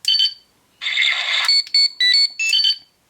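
A Power Rangers Legacy Communicator toy, Zeo Gold Ranger edition, plays a shrill electronic beeping effect: a short tone, then a longer warbling burst and several quick clipped beeps, loud and alone.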